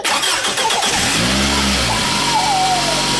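A car engine cranks and catches, then settles into a steady mid-pitched idle, close and loud, with no one talking.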